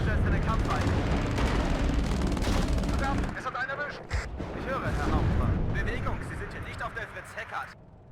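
Buccaneer aircraft bombs hitting a T-80 tank in the WARNO video game, a dense roar of explosions and gunfire that thins into scattered rumbling blasts, with a voice talking over it.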